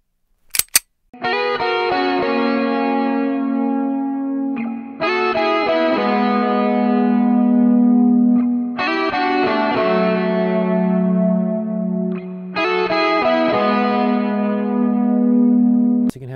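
Electric guitar with effects and distortion plays a riff through EVH gear, four repeated phrases of ringing chords over a sustained low note, loud and up close, no talking.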